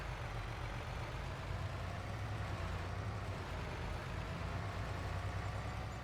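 A truck engine idles in Farming Simulator 22, a faint, steady low rumble with a constant hiss, unchanging throughout and with no voices.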